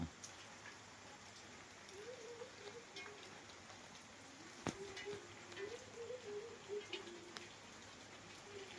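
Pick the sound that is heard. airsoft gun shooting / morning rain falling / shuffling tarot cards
morning rain falling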